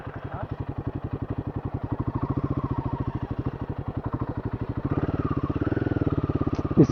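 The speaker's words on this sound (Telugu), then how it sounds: "బైక్ స్టక్ అయిపోతుందేమో." Motorcycle engine running steadily nearby while riding on beach sand, a continuous pulsing putter that grows slightly louder and rougher near the end, with no talk.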